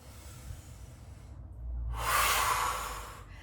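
A long, forceful breath is exhaled during a stability ball core workout, a breathy hiss that swells near the end after a quieter stretch of low background rumble, with no talking.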